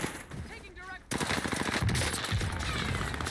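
Gunfire in Call of Duty Warzone: rapid automatic bursts crackle loud and close after a quieter opening, with a commentator talking over them.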